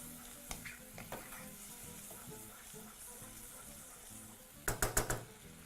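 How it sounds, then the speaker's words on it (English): A chole spice mix is stirred in a sizzling pan. A steady low frying hiss runs underneath, with occasional soft scrapes and a quick cluster of louder utensil knocks near the end. No one speaks. "Now mix that through once more."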